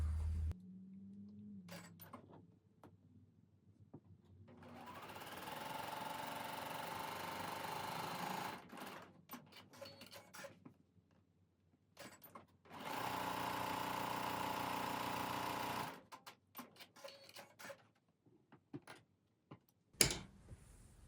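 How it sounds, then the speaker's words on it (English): A sewing machine stitches quilt fabric in two long steady runs a quarter inch beside a centre line, with quieter handling and short stops between the runs and a sharp click near the end. "sewing 1/4 of an inch on either side of the center line"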